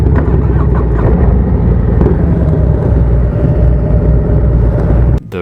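A stage 4 Harley-Davidson bagger motorcycle engine revs hard and steady toward red line, a loud, dense, throbbing roar held for about five seconds before it drops off abruptly.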